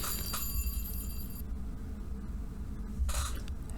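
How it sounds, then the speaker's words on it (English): A telephone rings in a video game, a bright electronic ring heard in two brief bursts over a steady background hum, with no voices. "The phone rings."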